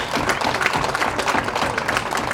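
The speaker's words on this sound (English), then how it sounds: "let's have a round of applause for our 2014 Pacific softball seniors" Crowd applause at an outdoor college softball game honoring Pacific's senior players, dense steady clapping from spectators at moderate distance with no talk over it.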